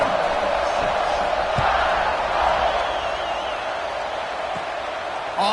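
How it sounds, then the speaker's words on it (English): A stadium crowd in the College Football 26 video game roars steadily after a score, a dense, loud wash of cheering that holds throughout. "this crowd is buzzing after that last score"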